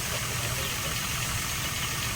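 A power sprayer motor runs steadily, a close, even mechanical hum and rattle with no break.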